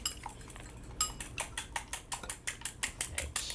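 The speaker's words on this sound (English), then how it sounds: "Beat my egg, get it ready." An egg beaten briskly in a bowl, a fast regular run of sharp clicking taps from the utensil striking the bowl, close and clear, with no talking.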